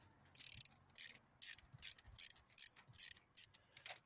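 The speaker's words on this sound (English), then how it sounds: "we're going to loosen each one of these spark plugs" A 3/8 ratchet with extension and spark plug socket loosening spark plugs on a Pontiac Vibe engine: about nine quick, sharp clicking bursts in an uneven rhythm, close and clear with no talk.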